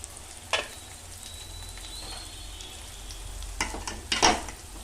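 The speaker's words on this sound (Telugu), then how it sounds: "కొంచెం ఆయిల్లో ఫ్రై అవ్వనివ్వాలి" Oil sizzles and crackles steadily in a pan as an egg fries, with a few louder spatters and scraping stirs breaking through near the end.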